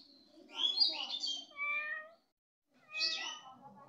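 A cat meows twice, close and fairly quiet, with one longer wavering call followed after a short pause by a second, briefer meow.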